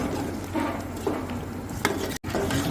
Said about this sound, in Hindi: इसके बाद इसे अच्छी तरह मिक्स कर लेंगे।